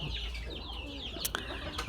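Chickens cluck softly nearby over a low background hum, with a couple of brief clicks toward the end.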